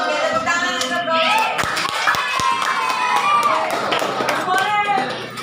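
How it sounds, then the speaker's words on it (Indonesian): A classroom of students claps for a fellow student, with scattered sharp hand claps mixed into lively chatter and voices throughout. "tepuk tangan untuk Bro"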